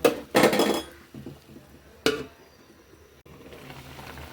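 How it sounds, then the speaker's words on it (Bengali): A spoon stirs shing fish curry with pepuli greens and potato in a pot, producing two loud scraping clatters against the metal, then quieter soft knocks and bubbling. "আমি নাড়াচাড়া দিয়ে দিচ্ছি।"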